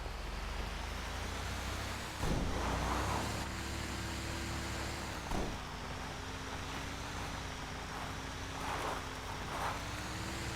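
A construction truck in the video game GTA 5 drives along with a steady low engine drone and road noise, rising briefly in places, with no talk over it.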